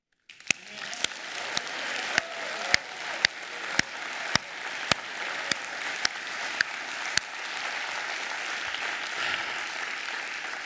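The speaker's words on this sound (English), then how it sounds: "I want to roll the credits for God with a thunderous applause and a mighty shout." A church congregation bursts into applause, building from a few sharp claps into a dense, sustained wash of clapping, with regular loud rhythmic claps standing out near the front for the first several seconds.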